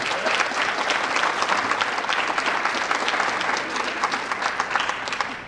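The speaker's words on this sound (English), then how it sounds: "give her a quick round of applause, please" An audience at a school athletic signing event gives a round of applause, a steady wash of many hands clapping at even strength for several seconds, filling the room.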